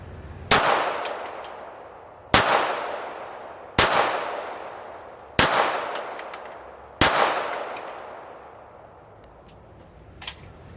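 Five loud shots from an FN FNS9 9mm pistol fired at a target, evenly paced about one and a half seconds apart. Each crack rings out with a short echoing tail, followed by a faint clink near the end.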